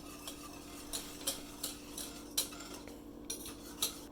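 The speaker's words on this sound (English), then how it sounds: "add in your cheese and continue to stir until it is melted" Cheese being stirred into Alfredo sauce in a pot, with light, repeated clinks and scrapes of a utensil against metal roughly every half second over a low, steady hum, faint and close, with no voices.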